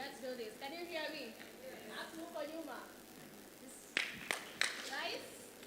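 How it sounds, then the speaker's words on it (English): An audience at a women's health and wellness event claps in three sharp, loud bursts toward the end, after a stretch of someone talking. "Let's give her the Gen Z clap."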